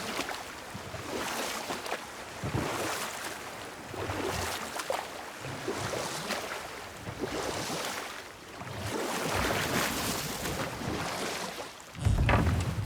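Oars rowing a boat across water in God of War on PS5, repeated dipping strokes and swishing water with wind and lapping waves, steady and close, ending in a louder splash-like burst.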